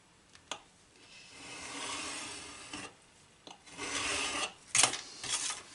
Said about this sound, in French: On va faire une découpe à 15 cm.